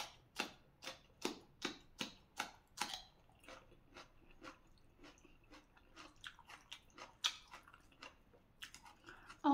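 Crisp, wet crunching of raw water spinach (morning glory) being bitten and chewed up close, a steady run of sharp bites early that turns to softer, slower chewing later, with no talking.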